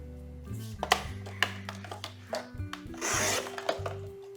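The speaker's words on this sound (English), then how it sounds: "So I'm going to get my trimmer. And I'm just going to trim off 1/4 of an inch." Paper trimmer sliding and cutting a quarter inch off a paperboard gift box, with scrapes, taps and a short rasping cut near the end, close and quiet.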